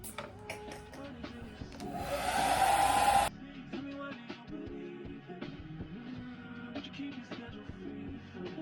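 A handheld hair dryer switched to its high hot setting blows steadily for a little over a second of loud broadband whoosh, then cuts off, leaving quieter room noise with faint clicks and movement.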